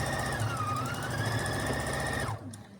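A Husqvarna Viking Platinum 735 sewing machine stitches steadily, a close, even motor hum with rapid rhythmic needle chatter that runs evenly and then stops abruptly near the end.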